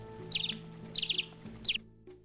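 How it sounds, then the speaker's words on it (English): A small bird gives three quick bursts of high, bright chirps, evenly spaced and fairly faint, with no other sounds around them. "Bird, chirp."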